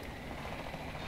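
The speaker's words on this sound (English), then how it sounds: "Focus on shooting the chopper if you see it." Helicopter flying overhead in Battlefield 2042 on the Noshar Canals map, a brief, steady rotor drone filling the background at moderate level with no talk.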